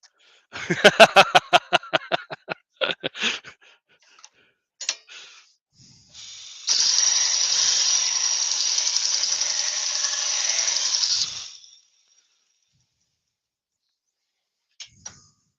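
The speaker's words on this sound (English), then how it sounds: "I'm just going to sharpen my gouge just to get a final cut on this" A woodturning gouge is sharpened on a grinder: a run of rapid rhythmic clicks and short bursts, then a steady bright grinding rasp of about five seconds, and a few faint knocks after it.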